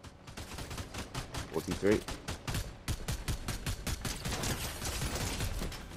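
Fortnite gunfire: a steady rapid stream of shots rattling throughout, fairly close and loud, with a player's voice talking over it briefly.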